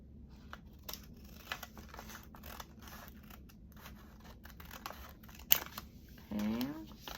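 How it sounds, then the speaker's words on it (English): Scissors trimming the edge of a paper journal page, a series of soft close snips and paper rustles at an irregular pace, with brief speech near the end. "we're going to cut the side down just a little bit"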